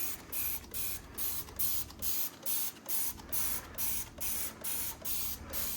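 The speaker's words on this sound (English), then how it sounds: "with the sprayer on the Dawn, it definitely makes it super nice to use" Dawn dish soap is sprayed from a trigger sprayer onto a car tire in a quick run of about a dozen evenly spaced, close, hissing pumps.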